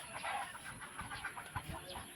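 Chickens cluck softly off and on in a quiet yard, with low thumps and faint background noise.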